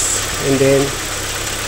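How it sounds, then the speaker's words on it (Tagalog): A Kia Rio engine with a piston wrist pin problem, just started and idling roughly before it stabilizes, gives a steady low hum under a brief spoken phrase. "So, nag-start na yung sasakyan."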